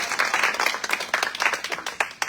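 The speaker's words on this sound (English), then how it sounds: "a big round of applause for Isato and all the youth who graduated" An audience applauds graduating youth at a Peace Boat reception and partnership expo, producing a short burst of dense, close clapping that thins out toward the end.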